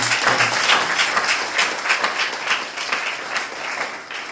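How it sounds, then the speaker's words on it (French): Church congregation applauding at an Easter resurrection service, dense rhythmic clapping from many people filling the room, loud and sustained before tapering slightly at the end. "On peut applaudir au Seigneur pour dire merci pour sa résurrection."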